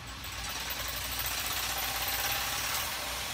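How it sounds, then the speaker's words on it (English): Small jigsaw with a fine-toothed blade cutting through foam, giving a steady, loud buzzing rasp that runs unbroken throughout with no pauses. "just get you a little jigsaw, put you a blade that has a very little bit of teeth in it, and you can just whack this thing"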